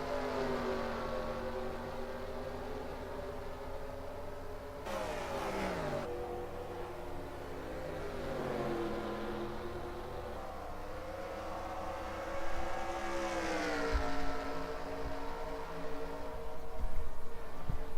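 Race cars in a NASCAR video game drone steadily past, their engine tones sliding and shifting in pitch as cars pass. One brief sharp sweep cuts in partway through, and the engine noise grows louder toward the end.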